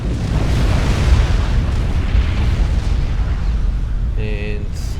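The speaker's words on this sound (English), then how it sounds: "It's actually a tactical missile nuke. And he just launched it from his commander." A tactical missile nuke detonates in the real-time strategy game Supreme Commander: Forged Alliance, a loud, rumbling, sustained explosion roar that fills the clip, ending with a short electronic game tone.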